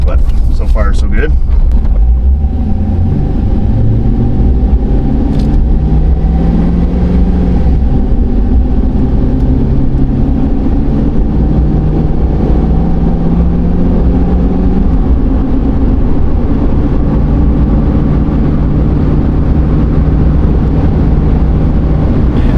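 A Chevy/GMC truck drives along on a freshly replaced 4L60E automatic transmission. A steady engine drone and road rumble fill the whole stretch, with engine pitch rising and falling through gear shifts under wind noise.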